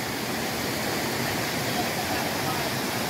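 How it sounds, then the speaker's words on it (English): Steady broadband rush of the waterfall at YS Falls in Jamaica, a continuous close roar of falling water filling the air with no pauses or other clear sounds. "Waterfall, ambiance."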